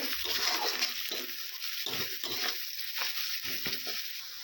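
Fried onions with Kashmiri chilli and turmeric powder being stirred in a pan, giving a soft sizzle with irregular scraping strokes close by.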